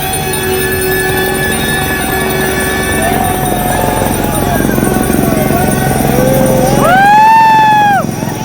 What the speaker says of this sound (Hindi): दक्षिण दिशा से भारतीय वायुसेना के हेलीकॉप्टर आ रहे हैं।